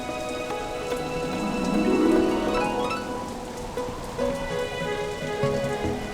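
Steady rain pattering on a surface, a continuous hiss of drops with a slight swell in the middle, no voices.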